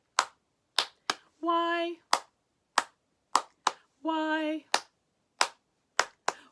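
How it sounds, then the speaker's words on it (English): Children and adults clap along to a sung Mother's Day song, sharp in-time claps landing in a regular rhythm between two short sung notes, the claps carrying clearly with little else behind them. "All clapping."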